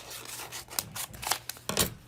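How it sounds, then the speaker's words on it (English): Scissors snip through sticky embroidery stabilizer in a series of quiet, irregular cuts, each a short crisp rasp, close up with no talking. "so I'm going to cut a little bit off of it"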